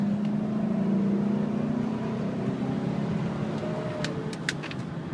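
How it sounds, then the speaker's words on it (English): A 2005 GMC Denali truck engine idles steadily and close by, a smooth low hum that holds even throughout, with a few faint clicks near the end. "Nice running truck."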